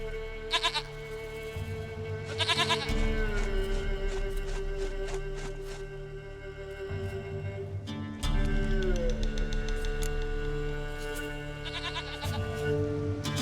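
A goat in the video game The Witcher 3 bleats several times in loud, drawn-out wavering cries, set against a tonal music and ambience bed.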